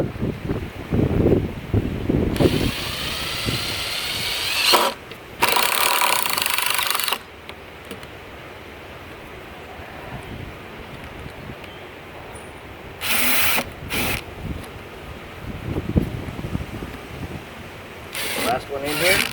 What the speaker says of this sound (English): Couple screws in it to square it up.